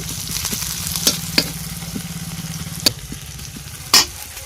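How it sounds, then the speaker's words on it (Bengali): Green chilies fry in hot oil with a loud, constant crackling sizzle, broken by several sharp metallic clanks and scrapes of a spatula against the pan. "লঙ্কাটাকেও ভালো করে ভেজে নেব"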